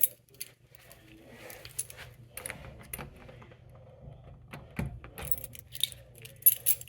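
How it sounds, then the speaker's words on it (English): Keys jangle and clink in brief, scattered bursts against a quiet background, with small metallic taps and rattles spread over several seconds and no speech. "The keys."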